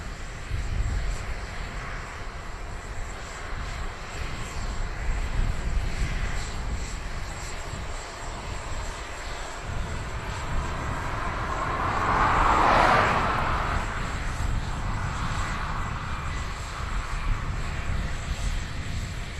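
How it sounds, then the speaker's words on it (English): A plane takes off at Dublin Airport, its engine roar building into a broad, steady rumble that peaks near the middle and then eases, heard at a distance with no voices. "let me know when the aircraft noise gets loud"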